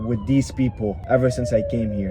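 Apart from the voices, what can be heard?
police sirens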